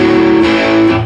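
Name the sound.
electric guitar chords without palm muting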